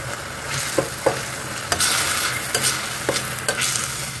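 Cooked white pumpkin sautéing in ghee for halwa sizzles steadily in a pan, with a spoon scraping and stirring in several short, distinct strokes at close range and no talk.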